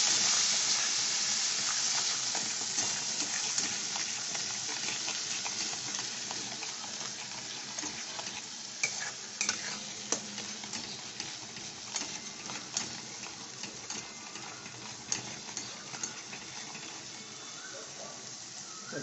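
Ginger and garlic paste sautéing in a pan for a microwave-made curry, a steady broad sizzle with occasional scraping stir clicks, fairly close, with some speech faintly present.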